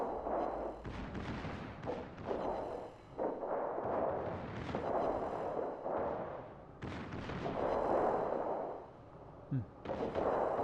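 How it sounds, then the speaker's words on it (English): The Schlieffen battleship's secondary guns fire in a video game, a series of heavy booming salvos in irregular succession, each with a rumbling tail, loud and close throughout. "There'll be double fire now."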